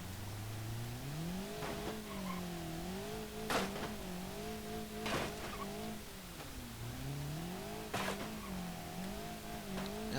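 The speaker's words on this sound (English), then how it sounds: "There's some crashes going on there" An ETK A-Series 1600 in the BeamNG.drive driving game revs and slides with a steady wavering engine drone, broken by three or four sharp crash impacts, close and fairly loud.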